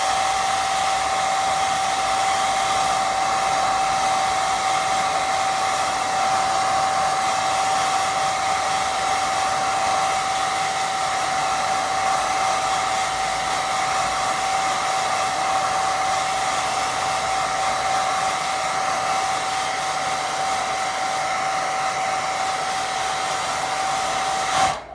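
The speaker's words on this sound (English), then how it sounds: "Right, let's get the hairdryer, low speed, and just get a bit of a dry." A hairdryer on low speed blows over wet watercolour paint, a steady, continuous whirring drone with a constant motor whine that runs unbroken for the full length and stops abruptly at the end.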